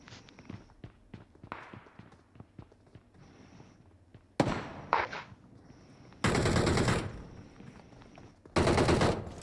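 Gunfire in the mobile battle-royale game PUBG Mobile: scattered single shots and short taps, then loud sustained automatic bursts at close range, with footsteps in between.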